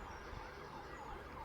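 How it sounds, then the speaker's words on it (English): Distant police or ambulance siren wailing on a city street, a faint rising and falling tone over steady traffic rumble, continuous through the short stretch. "I can hear police sirens."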